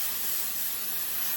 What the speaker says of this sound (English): spray it on your wig